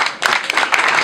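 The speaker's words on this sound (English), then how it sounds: "Please, I want the applause to be more than that." Applause at a school graduation ceremony: a dense, steady patter of many hands clapping, loud and close, holding at an even level through the short burst.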